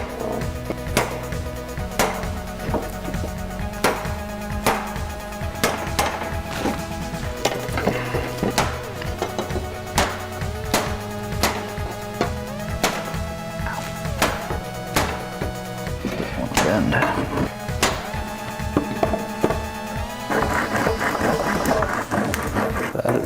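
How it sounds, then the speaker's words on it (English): A hand-forged saw, not yet sharpened, cuts through wood in quick, regular back-and-forth strokes, each rasping pass loud and close in a steady rhythm. "Yeah, that is definitely a saw. It cuts surprisingly well"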